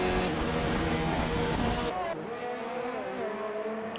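F1 race cars in a racing game during the Canadian Grand Prix, high-pitched engines screaming loudly and close, then dropping and shifting as the cars pass, under continuous commentary talk.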